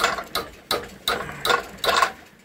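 A metal door lock part from a Toyota Tazz is cranked tight in a vise, with five evenly spaced ratcheting metallic clicks, close and clear.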